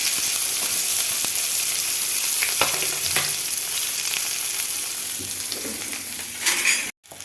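Green chilies and onions fry in oil, giving a continuous bright sizzle up close with a few scattered taps of a stirring spoon before the sound cuts out briefly near the end.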